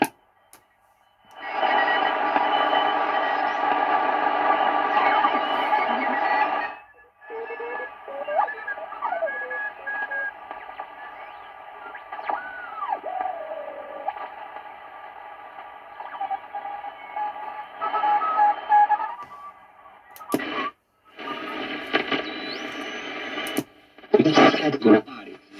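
Shortwave signals on the 41 metre band come through an Eddystone EC10 receiver: a loud buzzing data tone, then tuning whistles, sweeping heterodynes and static bursts with fragments of stations.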